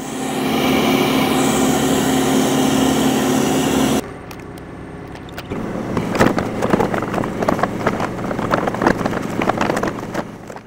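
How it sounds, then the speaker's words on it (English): A backhoe bucket's teeth ripping apart big trees and logs from an old abandoned log pile, with a steady engine drone first, then loud irregular cracking, crunching and splintering of wood over the running machine. "So here I'm using the teeth of the backhoe bucket to rip up these bigger trees and logs."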